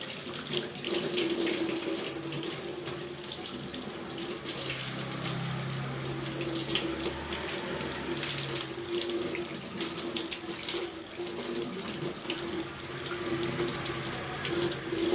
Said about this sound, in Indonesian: Buka keran, basahi kedua telapak tangan.